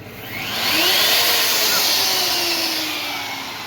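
A hammer drill boring a small hole for joining rafters in a tie-beam joint, a steady high whine that swells in and holds for a few seconds, close and loud, with faint talk behind it.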